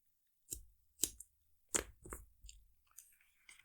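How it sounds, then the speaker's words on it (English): Scissors snip craft trim to length for a mini album card kit: a handful of crisp, close cuts in an uneven rhythm over a quiet background. "I'll just snip it to the length that I need"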